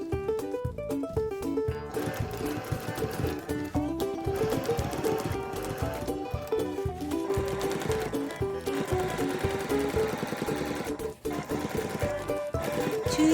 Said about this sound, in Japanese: ステッチ定規がついているのでこれを見て縫っていきます